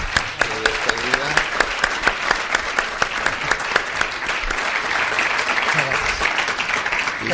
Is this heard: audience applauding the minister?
yes